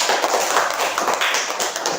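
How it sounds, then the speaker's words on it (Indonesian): A classroom group claps together in steady, dense applause at a teacher's request, a continuous crackle of many hands lasting the whole moment with no voices over it. "Tepuk tangan dulu untuk kita semua ya."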